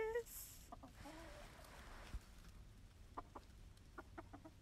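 A rooster named Lewis gives short chirps and soft clucks in quick clusters, faint and close against a quiet hiss, with no talking over them.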